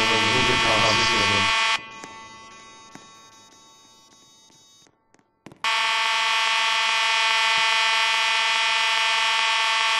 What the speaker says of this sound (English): The fire alarm system will be tested.